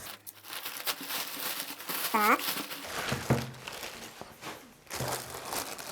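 Plastic packaging crinkles and rustles up close as an AliExpress parcel is handled and opened, with irregular crackling bursts.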